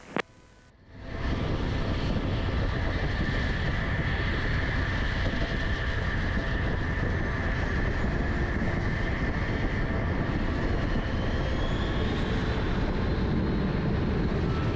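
An aircraft taking off from runway 21 at Scottsdale Airport: after a brief click and a short quiet stretch, a loud engine roar swells and holds steady. A rising whine builds toward the end, all heard close up.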